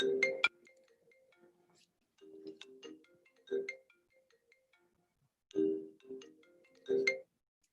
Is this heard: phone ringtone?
yes